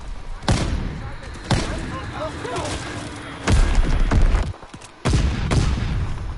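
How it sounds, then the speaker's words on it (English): Heavy bomb explosions in a combat video game: four deep booms at uneven intervals, each a loud sharp burst with a rumbling tail, over constant battle noise. "Enemy bomb incoming. Get to cover."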